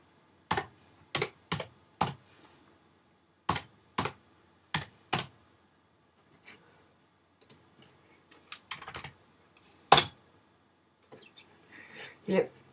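An IP address is typed on a computer keyboard in short bursts of crisp, close key clicks, grouped with pauses between them, followed by a few scattered softer taps and one sharp louder click.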